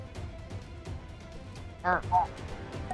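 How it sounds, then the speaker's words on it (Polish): Two short goose honks from a Roblox video game in quick succession over a low background hum and faint talking. "To jest gęś."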